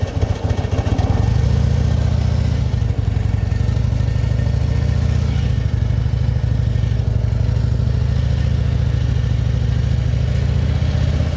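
A motorcycle engine idles and pulls at low revs through a slow, sharp U-turn in a parking lot, with the rear brake dragged and the clutch slipped; a steady, loud, close rumble runs throughout with small throttle swells.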